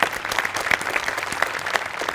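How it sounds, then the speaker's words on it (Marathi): Studio audience applause for a performer on a Marathi comedy show, brisk steady clapping with a few sharp individual claps standing out, moderately loud and without speech. "त्याच्यासाठी एकदा टाळ्या."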